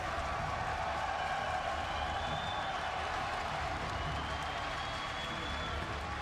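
A large crowd at a StarCraft II esports final at BlizzCon claps and cheers steadily, a dense wash of applause with scattered shouts sustained evenly throughout.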